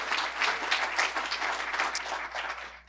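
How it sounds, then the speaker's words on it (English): Audience applause at a City University of New York address, a broad, continuous wash of many hands clapping at even loudness throughout. "We can all clap to that."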